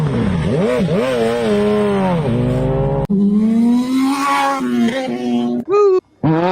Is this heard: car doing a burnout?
yes